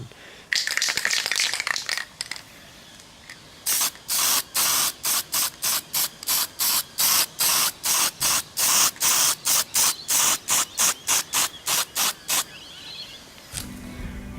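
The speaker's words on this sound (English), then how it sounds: "let's spray some primer" Spray primer on a Toyota Corona hisses in a long series of short, evenly spaced bursts, close and loud, after an opening stretch of steady spraying. No one speaks.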